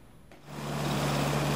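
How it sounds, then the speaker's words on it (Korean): A tractor engine starts up and builds to a steady, droning rumble with a low hum as it tills a rice paddy during planting season, fairly close and running without pause. "트랙터가 큰 소리를 내며 기운차게 논을 질주합니다."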